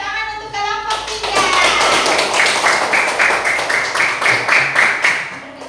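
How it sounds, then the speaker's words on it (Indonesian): A classroom group claps for a team of presenters, loud, quick hand claps that start after a short spoken lead-in and keep going steadily, with children's voices mixed in. "Tepuk tangan untuk kelompok 3."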